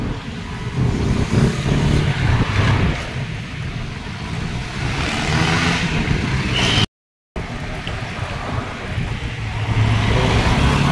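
Steady road traffic on a one-way road in San Mateo, with vehicles rushing past in a continuous roar of engines and tires that swells and fades, heard close and moderately loud with a brief dropout partway through.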